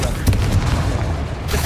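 A Confringo fire-blast spell in Hogwarts Legacy erupts as a loud, booming explosion with a rumbling low-end burst, close and sustained for over a second.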